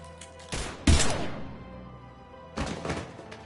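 Gunfire breaks out in Mass Effect 3 Legendary: a few loud, sharp bursts and thuds. A cluster lands near the start, the strongest hit comes about a second in, and a later burst follows over a low, steady background.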